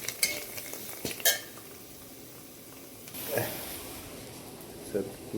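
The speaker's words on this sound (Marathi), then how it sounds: "चिकन बिर्याणी मसाला टाकून सर्व मसाले टाकून झाल्यानंतर व्यवस्थित मिश्रण हलवून घ्यायचं" Chicken biryani masala mixture being stirred in a pan, with intermittent scraping and clinks of a spatula against metal over a faint background sizzle, fairly quiet and close.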